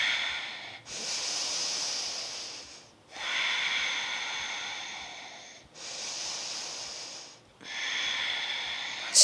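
Slow, deep breaths during a yoga pose, each long airy inhale and exhale separated by brief pauses, close and soft, with no talking.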